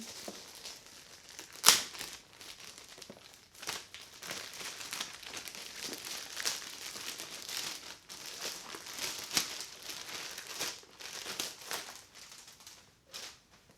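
Plastic packaging around a Fitbeast loop resistance band crinkles and crumples steadily for about fourteen seconds, with a sharp tearing burst near the start and repeated rustling pulses throughout, close and fairly loud with no speech.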